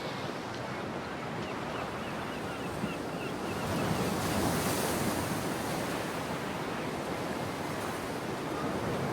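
Sea surf breaking steadily on a shore, a continuous broadband wash with wind noise; the surge swells slightly louder midway through and there is no talk.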